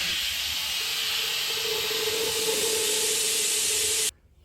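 A pump sucks brake fluid out of a car brake line, making a steady, loud hiss that runs unbroken for about four seconds and then cuts off abruptly, with no talk.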